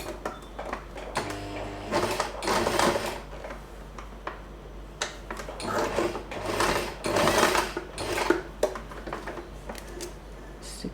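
A sewing machine stitches a fabric bow in bursts of rapid mechanical whirring and clatter, stopping and starting again between short pauses, up close with no talking.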